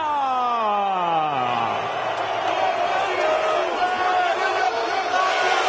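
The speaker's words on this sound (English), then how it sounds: "A thunderous ovation from the partisan Polish crowd here in Brooklyn." Partisan Polish boxing fans in Brooklyn roar a thunderous ovation for their challenger, a loud sustained crowd swell of cheers and yells with rising whoops, filling the arena continuously.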